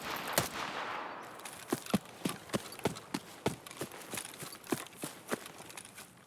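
Footsteps in the shooter Escape From Tarkov heard through a Razer headset, a steady run of crisp, evenly spaced steps, fairly close, with no voices over them.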